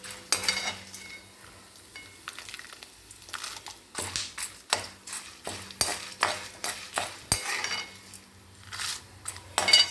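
Spices roasting in a pan for pulikaichal, stirred with a metal spoon that clinks and scrapes in irregular bursts over a soft sizzle, close and without talk.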